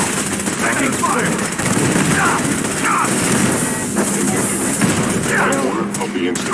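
Sustained gunfire from a firefight in the video game Fallout 4, dense overlapping bursts and rattling shots running continuously with combat noise, loud and close throughout.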